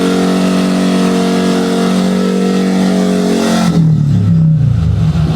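A Honda ADV 160 scooter with a bolt-on CVT upgrade and stock ECU remap revs hard close by, holding a loud, steady engine roar before the pitch drops and the revs fall away near the end.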